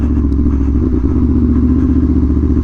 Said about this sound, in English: this is exactly where you want to be riding your Tuono. In the dirt. In the rocks.